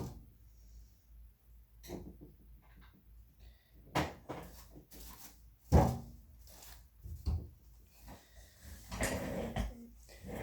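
A drawer is opened and shut repeatedly during a search, giving a string of knocks, wooden slides and thumps at close range with quiet gaps between them.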